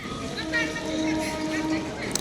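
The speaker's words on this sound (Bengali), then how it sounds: "ওই যে দেখতে পাচ্ছেন ট্রেনের হর্ন দিচ্ছে" A train horn sounds near the river at Paglachandi bridge, a steady sustained blare held for a couple of seconds over outdoor background noise, with people's voices faintly mixed in.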